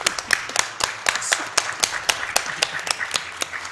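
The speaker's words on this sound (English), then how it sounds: "We can clap for that." A small group at a speedrunning marathon event claps unevenly in a steady stream of sharp hand claps, fairly close, with no talking.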